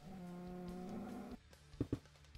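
A Minecraft cow lets out one drawn-out low moo lasting over a second, followed by a couple of short soft thuds, fairly quiet and alone.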